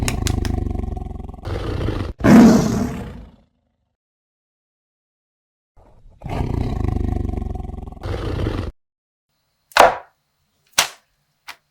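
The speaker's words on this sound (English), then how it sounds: "Wow, a leopard!" A leopard gives loud, close roars in two long, rasping bouts, each cut off by stretches of silence, followed by a few sharp, short grunts near the end.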